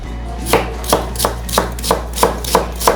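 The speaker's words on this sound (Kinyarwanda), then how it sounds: "Dutangira dukata igitunguru kiri julienne" Onion sliced julienne with a knife on a board, eight steady, evenly spaced chops close up, with no voices.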